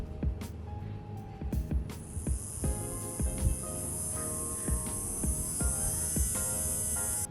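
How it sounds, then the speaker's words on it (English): A DC brushed motor driven by an MD10-POT motor driver hums and whines steadily, a high sustained tone settling in after a few clicks and taps, with no talking. "Now you can control your motor using the switch, and the speed can be adjusted using the potentiometer"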